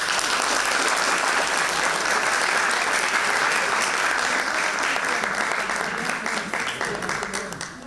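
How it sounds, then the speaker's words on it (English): Steady, full audience applause at a Grade 6 graduation ceremony, many hands clapping in a dense continuous wash that holds at a strong level and eases slightly near the end. "I wanted him to get a proper round of applause"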